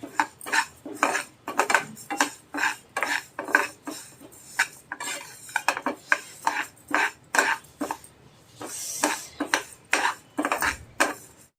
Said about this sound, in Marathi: थोडासा जास्त नाही आपण तुपात त्यांना भाजायचंच आहे